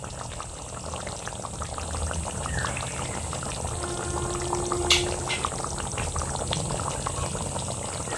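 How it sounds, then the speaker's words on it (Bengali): A rohu fish curry simmers with steady bubbling and hissing as a spoonful of ghee goes in, a continuous close liquid sound with a brief clink midway. "এবার আমি নামানোর আগে 1 চামচ ঘি দিয়ে দেব।"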